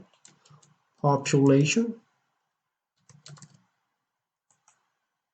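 Short bursts of clicks from a computer keyboard as a value is typed into simulation software, with a clear voice speaking briefly between the keystrokes.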